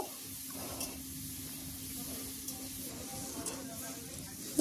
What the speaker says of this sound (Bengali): তো আমি এখন নুন হলুদ দিয়ে ভালো করে মিশিয়ে ভেজে নেব।